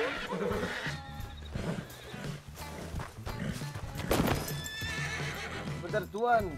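A horse in Red Dead Redemption clops along with hollow hoofbeats, then lets out a loud wavering neigh near the end, heard close under overlapping game sounds and a speaking voice.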